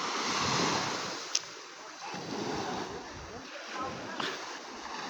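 Sea waves and surf at Barangay Laker on Sarangani Island during a tsunami: a steady rushing wash that swells and ebbs, with wind buffeting the microphone and a few faint clicks.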